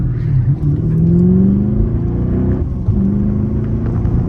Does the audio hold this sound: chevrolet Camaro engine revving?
yes